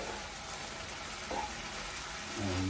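Cheese being stirred in a pan for kuymak, giving a soft, steady sizzle with faint scraping close by and no voices.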